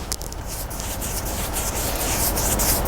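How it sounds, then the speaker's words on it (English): Brush strokes of PVA drywall primer being spread across new drywall and joint compound, a steady continuous rubbing swish with no talk. "so you can brush it like that"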